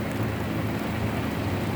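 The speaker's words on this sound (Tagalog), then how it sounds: "kaso umuulan siya" Rain falls steadily on the way to Cabo Beach in Coron, Palawan, a constant close hiss of drops with a low rumble underneath and no talking.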